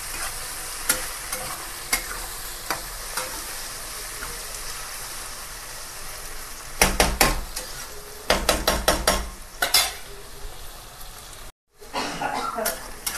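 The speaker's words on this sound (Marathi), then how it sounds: "चला असा कांदा पण एकदम मस्त लाल भाजलाय।" Chopped onion frying and browning in a pan, a steady soft sizzle with bursts of louder crackling and stirring scrapes midway, followed by a brief gap and then more sizzling.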